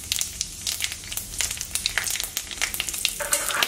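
Whole spices frying in hot oil: mace, cloves, star anise and cardamom. A close, crackly sizzle carries sharp pops and scraping stirs, louder bursts come toward the end, and no one speaks.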